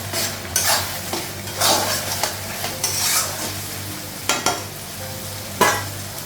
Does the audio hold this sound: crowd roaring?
no